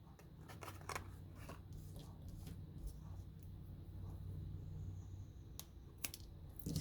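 Faint snipping of scissors trimming a paper cattail for a hexagon pop-up card, a few small crisp cuts scattered over a quiet background hum.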